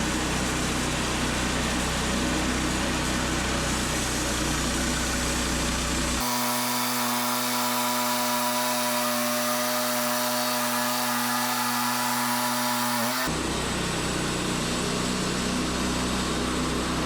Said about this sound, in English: We'll saw this cant off.